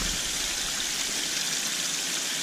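Water running through a shower filter on a koi pond, a steady hissing, splashing rush of flow heard up close and unbroken throughout.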